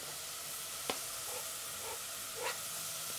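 Onion and garlic frying in butter with a cinnamon stick in a pan, giving a soft, steady sizzle with two faint clicks of a utensil stirring.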